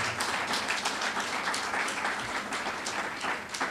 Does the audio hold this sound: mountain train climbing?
no